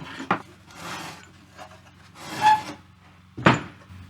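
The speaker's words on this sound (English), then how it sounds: "I'll undo the screws." Screws being undone on the chassis of a 1940 Bland Operatic Model C radio, heard as three close rasping, scraping bursts of metal and wood friction with a sharp click between them.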